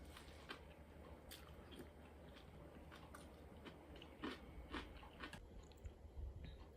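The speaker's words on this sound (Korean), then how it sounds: "아삭아삭 콩나물" Close crunchy chewing of bean sprouts in a bibimbap meal, with soft, irregular crisp bites and mouth sounds in a quiet room.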